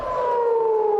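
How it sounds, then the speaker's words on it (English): An air raid siren wails in northern Israel, a loud sustained tone slowly falling in pitch, heard alone and fairly near. "There's a siren."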